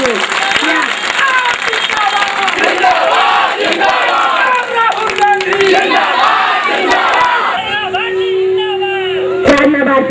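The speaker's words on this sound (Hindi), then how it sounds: "तालियों की गड़गड़ाहट का आश्वासन दिला दीजिए।" A large audience at a Hindi poetry event roars with loud applause and shouting cheers, a dense, continuous wall of crowd noise with voices rising throughout.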